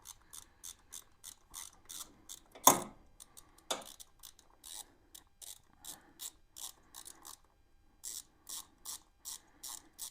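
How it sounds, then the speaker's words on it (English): A hand ratchet works loose the long bolts on the timing cover of a 1987 Honda GL1200 Goldwing, giving quiet, evenly spaced clicking strokes in repeated runs, broken by a couple of sharper metallic knocks and short pauses. "Let's go ahead and remove these 4 bolts."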